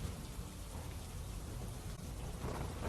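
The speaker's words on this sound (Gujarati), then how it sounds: "વેરાવળ શહેર અને ગ્રામ્ય વિસ્તારોમાં વરસાદ છે" Heavy monsoon rain pours over Veraval in Gir Somnath district, Gujarat, a dense, steady roar of falling water that stays loud and unbroken throughout, with no voices.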